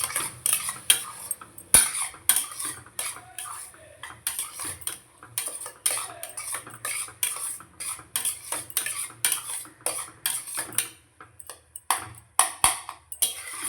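Mint and green chilli paste sautéed in a pot for biryani, a ladle clattering and scraping against the metal in a brisk, continuous rhythm with sharp clinks, close and fairly loud.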